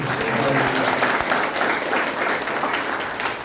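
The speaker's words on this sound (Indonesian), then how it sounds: "Tepuk tangan untuk Yesus." A church congregation claps together in a steady, loud burst of hand clapping, holding evenly before easing slightly at the end.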